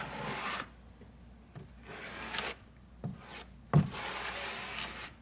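Notched 1/8 by 1/8 inch trowel combing thin-set mortar, repeated scraping strokes in a loose rhythm, close and fairly quiet.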